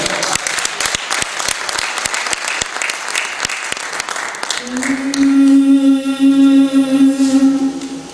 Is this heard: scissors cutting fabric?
no